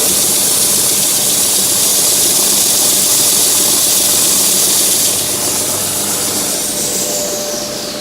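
A loud, steady whine with broad hiss from a Jet belt sander fitted with a dust shroud runs continuously, easing slightly toward the end.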